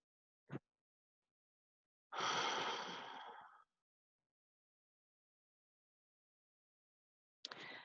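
Deep breath drawn in and let out during a quiet healing meditation practice: a brief soft sound, then a longer, fuller exhale of about a second and a half, followed by silence and another faint breath starting at the end.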